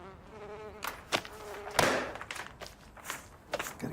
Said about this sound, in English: Gotta get rid of these wasps.